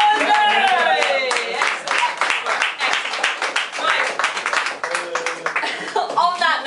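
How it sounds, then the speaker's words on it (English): Audience at the Paris Lit Up Thursday open mic claps and cheers, with dense, uneven clapping and excited voices and whoops mixed throughout at a lively, close level. "Round of applause!"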